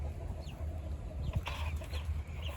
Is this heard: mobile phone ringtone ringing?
no